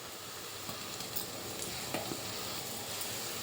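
Brinjal pakoda batter spooned into hot oil crackles in a steady, close sizzle that holds evenly throughout, with no voices.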